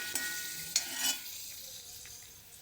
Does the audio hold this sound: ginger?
yes